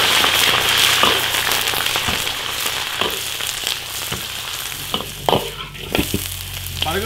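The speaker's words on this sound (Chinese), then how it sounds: "下鹅煸炒。" Pieces of goose stir-fried in oil in an iron wok over a rural earthen stove give a loud, continuous sizzle, with scraping and clattering strokes of the spatula over it.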